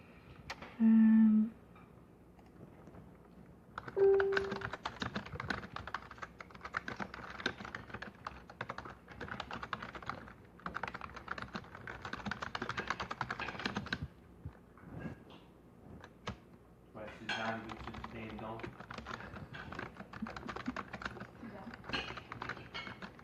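Keyboard typing on a computer during a live session about social media management, a steady busy clatter of keystrokes running through most of the stretch, with pauses and bursts.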